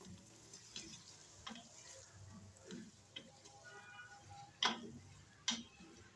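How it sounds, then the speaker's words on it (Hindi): Chicken pieces for moti pulao and peas stirred while frying in oil: a faint, steady sizzle with soft scraping strokes, then two sharper clinks of a utensil against the pan near the end. "हमने चिकन मोती को और मटर को 2 मिनट ऑयल में फ्राई कर लिया है।"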